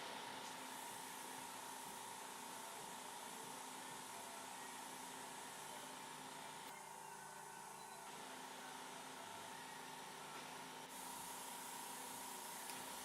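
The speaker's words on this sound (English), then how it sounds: "Right here, I'm just spraying a little bit of that black there on the back end of the car" A steady airbrush hiss, powered by a Sparmax Zeta compressor, sprays black paint continuously and fairly quietly onto a model car, with a faint tonal hum underneath and no talking.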